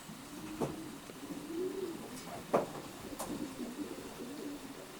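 Racing pigeons coo softly inside a loft, with a few low rolling coos and scattered sharp clicks and wing flutters against a quiet background hum.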